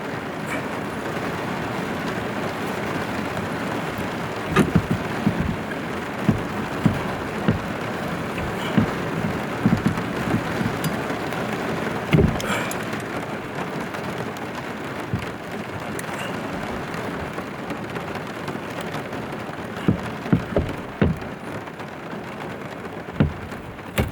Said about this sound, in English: I don't know if you can hear that rain, but it is pouring.